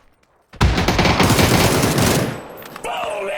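Sustained automatic gunfire sprays in PUBG Battlegrounds on PC, a loud, dense burst of rapid shots running about two seconds, then fading into quieter follow-up firing and clatter.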